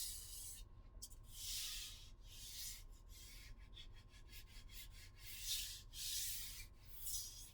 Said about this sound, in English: What I'll do is just lightly sand it, just to get rid of any of the excess CA that's sitting on top.